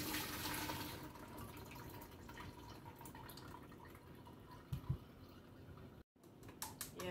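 Blended rice for horchata poured through a kitchen strainer, a faint, steady trickle and drip of liquid with a few small clinks of the strainer and a brief dropout near the end.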